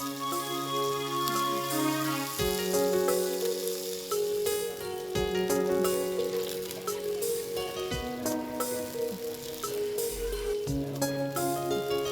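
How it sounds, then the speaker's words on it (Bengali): Continuous hissing sizzle of small mola fish, coated in turmeric and salt, frying in hot oil, loud and close, with a steady hum running underneath. "গরম তেলে হলুদ আর লবণ মাখানো মলা মাছটা ছেড়ে দেয়া হলো"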